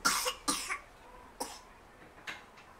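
Several sharp coughs from one person, close and fairly loud, coming in separate bursts: two quick ones, then a pause, then two more spaced apart.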